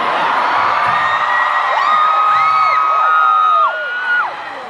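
Concert crowd at a 2014 show screaming and cheering, a dense wash of loud high-pitched shrieks and whoops from many people that fades slightly at the end.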